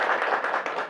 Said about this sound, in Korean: 너무 두 분 활약에 응원 드리는 박수 한번